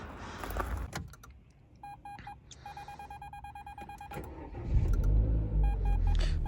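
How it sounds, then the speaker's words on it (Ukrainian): A car's parking sensor beeps in steady repeated tones, starting near and fairly loud, with engine noise and door sounds around it on a snowy morning. "Так, це у нас пікає парктронік."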